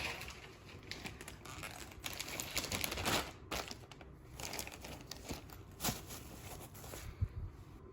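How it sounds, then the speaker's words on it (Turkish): Rustling and crinkling of a plastic bag, a pouch and a handbag as they are pushed into a suitcase, with soft handling noises and occasional sharper crinkles throughout. "Bunu ve çantamı valizin içine koyacağım şimdi."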